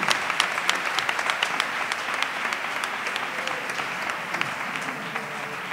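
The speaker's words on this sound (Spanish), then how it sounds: "Y me gustaría que le den un aplauso, que Teresa ha acabado." At a carnival gala, the comparsa La Voz del Sur's audience keeps up steady applause, many hands clapping in an even, moderately loud wash with sharper individual claps standing out, and no voices on top.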